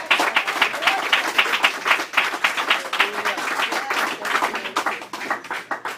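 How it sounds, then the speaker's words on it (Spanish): A church congregation claps loudly and steadily for a sermon, with dense, rapid handclaps spread evenly through the whole stretch and faint voices mixed in. "un aplauso grande para el Dios grande."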